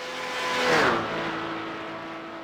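An MX-5 race car in iRacing roars past on the Nürburgring Nordschleife, its engine note rising and then dropping as it sweeps by, loud and close, with a sustained whine continuing afterward.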